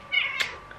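A pet cat gives a single short meow close by in a quiet indoor room, with no one talking.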